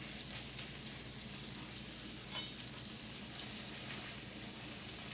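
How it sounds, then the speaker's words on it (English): Pork sausage patties frying in a pan, giving a steady, even sizzle and crackle that runs throughout at moderate volume, with one brief louder pop partway through and no talking. "These pork sausage patties cook up really fast."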